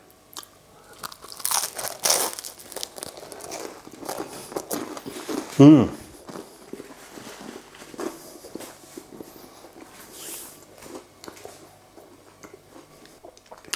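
Someone munches crusty bread topped with chorizo cooked in cider, a Spanish tapas dish; crisp crunchy bites and chewing up close, with one louder crunch midway and soft handling noises around it.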